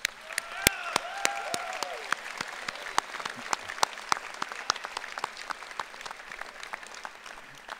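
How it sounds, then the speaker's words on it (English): An audience claps for several seconds at a university new student convocation and pep rally. The applause is steady and moderately distant, with a few sharp individual claps standing out. "May we please have a round of applause"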